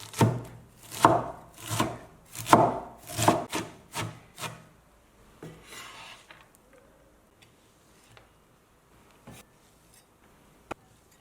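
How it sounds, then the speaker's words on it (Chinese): A knife chops finely shredded, peeled lotus root on a board in quick, steady strokes, a run of about a dozen loud, rhythmic chops that then thin out into a few scattered, softer taps and scrapes. "擦成细丝之后呢，再用刀剁碎一点。"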